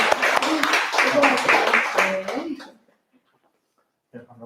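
A small crowd at a book concert applauds for a couple of seconds, with a speaker's voice over the clapping. It stops abruptly into near silence before the speaker's voice returns faintly.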